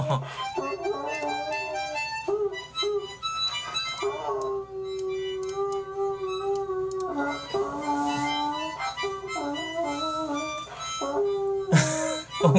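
Dogs in a breed-comparison segment, bloodhound mentioned, howling and yipping with sustained tonal wails over a full, continuous background for about twelve seconds, likely mixed with music or other layered sound.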